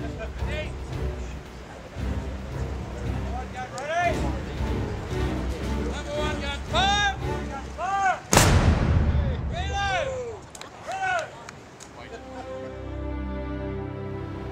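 Historic land-based guns at Fort Scratchley fire a single loud ceremonial shot, a sharp blast with a long rumbling decay, heard amid steady talking and background voices.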